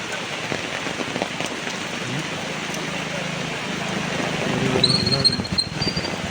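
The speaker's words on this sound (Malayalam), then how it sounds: "മഴ മഴ മഴ" Heavy rain pours steadily as a dense, continuous hiss, growing a little louder toward the end, with a faint high whine near the close.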